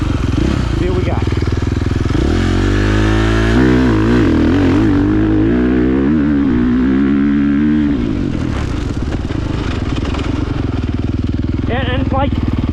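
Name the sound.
2023 KTM MX motorcycle revving and shifting with quickshifter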